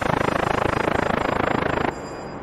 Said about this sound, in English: I added some details, a more electronic sound, like a small electric engine running